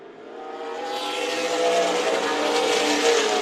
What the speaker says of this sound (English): we got John Lashley spun out in turn number 2 right now